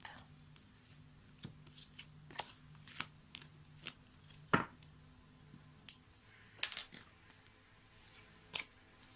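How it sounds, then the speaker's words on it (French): A deck of oracle cards is cut and handled at a table, making soft papery riffles and sharp card snaps. The sounds come close but quietly in sporadic bursts over a faint background. "on va couper le jeu"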